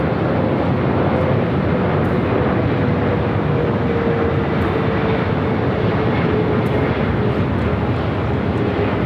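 An Airbus A380 jet airliner at LAX gives off a loud, steady roar of jet engine noise that holds evenly throughout, with no voices over it.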